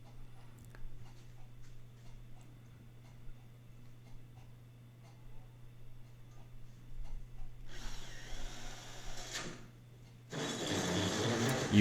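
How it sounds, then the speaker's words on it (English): A 6-inch hole saw on a drill cuts through 3/4 inch plywood for a cornhole board. Quiet ticking and handling come first, then two loud grinding bursts of cutting near the end. "because there's a lot of torque on that 6-inch hole saw going through a 3/4 inch piece of plywood"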